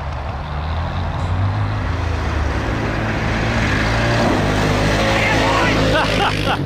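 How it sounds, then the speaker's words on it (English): A turbocharged 300hp Can-Am Maverick X3 off-road vehicle engine revs steadily and loudly up close, its rumble rising slightly toward the end, with faint wind noise throughout. "Oh yeah, hear that turbo."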